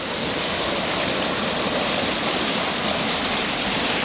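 A fast-flowing stream on a farm, its water rushing in a steady, close, full hiss with no breaks and no talking.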